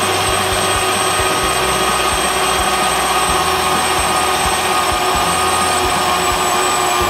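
An electric mixer whips egg whites with sugar at a higher speed, giving a loud, steady motor whir that holds unbroken throughout with no voices.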